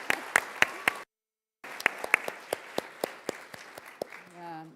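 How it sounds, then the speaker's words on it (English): Audience applause at a girls' leadership event: distinct sharp claps ring out, stop briefly, then resume with scattered hands clapping before a tonal sound at the end. "Let's give her a round of applause."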